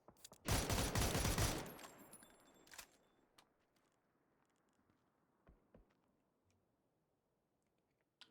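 Gunfire in a PUBG league match: a dense, loud burst of rapid shots at the start, then scattered single cracks and faint distant shots trailing off into near silence.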